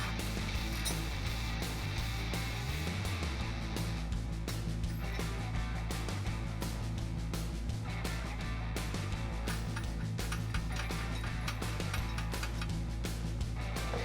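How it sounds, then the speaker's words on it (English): An 18mm socket and wrench ratcheting bolts tight while mounting a Barricade Extreme HD front bumper on a 2007-2013 Silverado 1500, with steady mechanical clicking and clanking under a constant background hum. "we're gonna tighten them down with an 18mm socket and an 18mm wrench"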